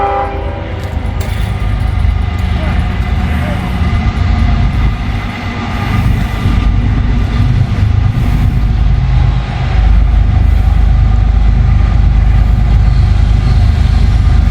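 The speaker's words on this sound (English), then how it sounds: "got an intermodal train on the way here" An intermodal freight train with trailers on the front rumbles past loudly at Marion, crossing the diamonds. A heavy, continuous roar of wheels and cars fills the whole stretch, with a horn sounding near the start.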